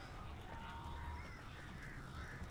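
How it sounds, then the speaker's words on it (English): A flock of crows caws in the video game Alan Wake, the harsh calls overlapping into a continuous, steady chorus that holds for the whole stretch with no pauses. "That's a lot of birds."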